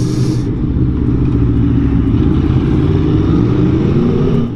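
A 2021 Aprilia Tuono motorcycle being ridden in sport mode, giving a steady, loud low engine rumble with constant road and wind noise throughout and a brief hiss burst at the very start.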